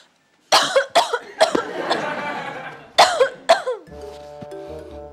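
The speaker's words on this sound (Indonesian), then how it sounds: "Tetangga kita batuk." Several sharp, harsh coughs in two clusters, close and loud, separated by a pause, followed by a brief quieter sound at the end.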